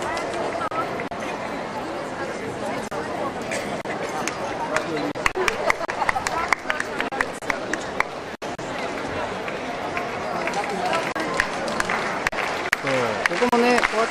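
Spectators clap along in a steady rhythm at the 2000 FCI agility world championship as a Giant Schnauzer runs the course, with crowd chatter and a commentator talking throughout.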